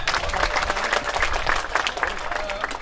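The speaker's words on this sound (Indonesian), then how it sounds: "Tepuk tangan untuk petani Indonesia" Audience at an Indonesian agricultural product launch event applauds farmers, steady clapping with some crowd noise and voices mixed in throughout.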